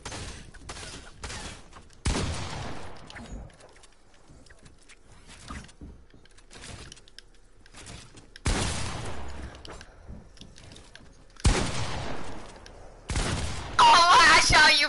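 Bursts of video-game gunfire and sharp impact sounds come in loud clusters separated by quieter gaps, with a voice talking in between.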